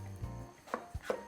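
A knife cuts green pepper into thin slices on a board, giving a few distinct chopping knocks spread over a short moment, close and fairly quiet with no voices.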